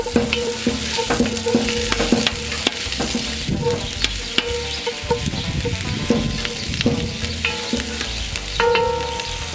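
Onions brown in olive oil in a pan for tartiflette. A steady, fairly loud sizzle plays with regular taps and scrapes of a stirring utensil, and no one talks.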